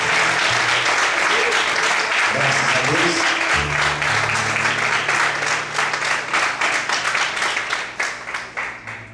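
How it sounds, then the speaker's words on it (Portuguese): Sustained applause from a church congregation, dense and steady, tapering off into scattered claps near the end. "Será que você pode aplaudir?"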